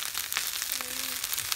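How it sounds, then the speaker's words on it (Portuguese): Steady broadband sizzling of egg and rice frying in a pan, with a faint scraping stir and a brief tonal squeak midway; no talking. "mexe o ovo no arroz pra fritar tudo no arroz"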